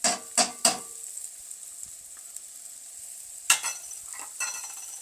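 Mushrooms and onions frying in a pan give a faint, steady sizzling hiss, broken by a few sharp utensil clinks and taps at the start and again midway, close by and quiet, with no voices.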